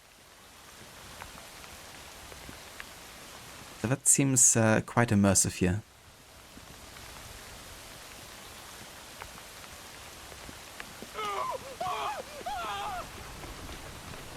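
Steady rain pouring in the 1868 London setting of an Assassin's Creed game, a continuous even patter throughout, with people talking over it in two separate stretches.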